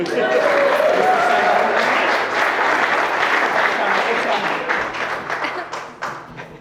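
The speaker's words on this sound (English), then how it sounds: "now we need a round of applause for Chris." Wedding guests at Guardswell Farm break into a round of applause, a loud sustained burst of many hands clapping that gradually thins and fades, with cheering and talk mixed in.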